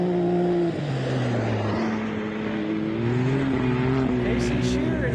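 Off-road race vehicles roar past at the MetalCloak Stampede, engines holding a loud, continuous drone that shifts pitch as they pass, with a commentator talking over them.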